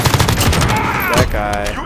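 Rapid automatic gunfire from the Call of Duty video game, loud and close, with dense rattling bursts for over a second before easing into fainter tonal game sounds and scattered shots.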